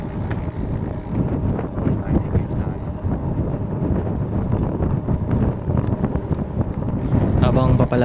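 Steady wind buffets the microphone in low rumbling gusts throughout during a fat bike ride along the sea, with a person talking over it and some background road or engine noise.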